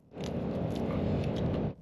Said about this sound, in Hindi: क्या आपको हड्डियों को चबाने की आवाज सुनाई दे रही है?